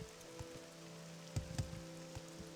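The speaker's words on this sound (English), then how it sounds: "I hope you enjoyed standing in the rain for like 4 days." Rain falls steadily in Morrowind, a soft, faint patter over a low constant hum with a few louder droplet-like taps, no voices.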